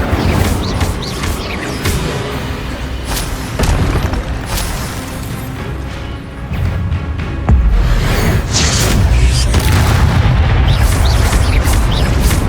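Casting the Incendio fire spell in the Hogwarts Legacy video game sets off repeated fiery bursts and heavy booms. They come one after another within a dense, loud wash of combat effects.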